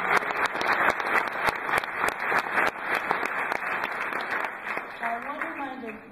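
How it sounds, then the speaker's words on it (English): A crowd claps together for a round of applause, sharp individual claps standing out in a dense, lively patter before it thins and a voice starts speaking near the end. "Give them a round of applause"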